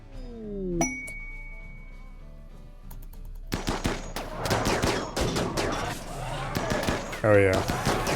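Rapid gunfire rings out while shooting the War Queen in a video game, with sharp repeated bursts and clinks loud and near, following a quieter stretch of tonal game sounds.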